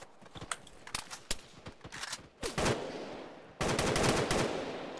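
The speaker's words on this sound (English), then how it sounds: "Oh shit, that's heavy fire." Heavy gunfire in a military video game, with sharp shots popping in irregular bursts that give way to sustained, loud volleys of rapid fire near the end.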